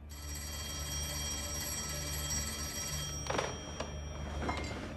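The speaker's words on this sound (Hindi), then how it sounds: "आपको फोन उठा लेना चाहिए" An office telephone bell rings faintly and steadily in a dubbed TV drama scene, with a few soft knocks and rustles near the end.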